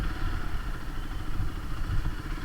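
Steady, loud mechanical drone with a pulsing rumble from an air compressor filling a vehicle tyre at an HP petrol pump, continuous and close for the whole stretch.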